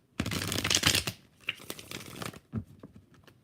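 A deck of tarot cards is shuffled with a burst of dense riffling flutter, then a few softer flicks and taps as cards are drawn and laid down, close up with no talking.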